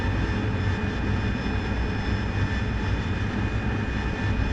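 A jet engine in the flight game DCS World drones with a dense, constant roar and steady high whine, loud and unbroken throughout the short stretch.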